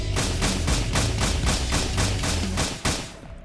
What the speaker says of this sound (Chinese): 我打你一枪，你就这样站着不动啊？